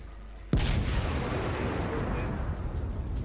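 The battleship New York fires a main gun salvo in World of Warships, a single sudden heavy boom followed by a long rumbling, crackling decay.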